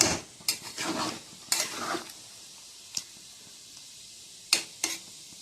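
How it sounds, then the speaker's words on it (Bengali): Food fries and is stirred in a wok: bursts of loud scraping and sizzling strokes near the start, then a quieter sizzle with a few sharp clanks of the utensil. "নাড়াচাড়া দিয়ে নেব"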